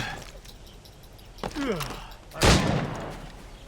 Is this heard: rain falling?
no